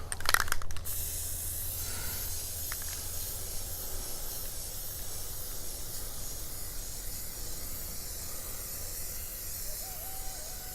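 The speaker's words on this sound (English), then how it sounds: "we're going to spray back and forth across this" A steady aerosol hiss runs throughout after a brief louder burst at the start, a spray can of Plasti Dip rubber coating being sprayed back and forth continuously up close.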